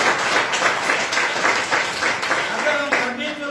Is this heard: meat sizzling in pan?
no